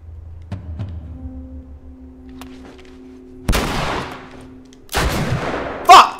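Gunfire in The Last of Us Remastered: after quieter ambient thumps and a low hum, two loud, sharp gun blasts ring out about a second and a half apart, each followed by a decaying echo.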